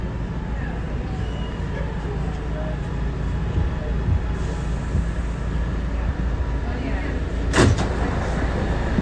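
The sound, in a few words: R211A C subway train riding between stations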